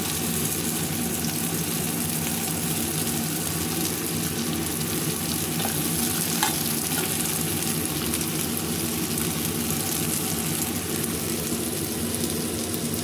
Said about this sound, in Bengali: রসুন, পেঁয়াজ আর কাঁচামরিচ একত্রে সব আমি ভাজবো।